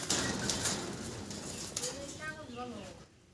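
Two female pigeons at a hobbyist's pigeon farm coo softly in short, low bursts, mixed in with nearby voices talking over them.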